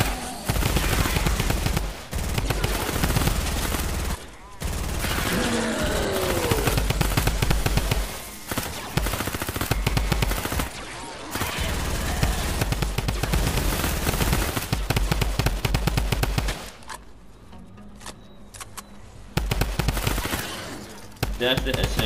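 SMG gunfire from the Fortnite Save the World video game in rapid, dense bursts that run almost continuously, with brief pauses, layered with game effects and a voice talking over parts of it.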